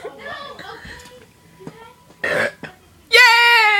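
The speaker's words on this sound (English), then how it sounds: "Now you're determined to make yourself burp." Two people in a playful burping contest: scattered talk and giggles, then a short raspy burp mid-clip followed by a loud, sustained tonal burp at the end.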